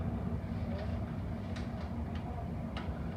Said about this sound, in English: That TfL Rail train has just arrived from Liverpool Street and will depart for Shenfield soon.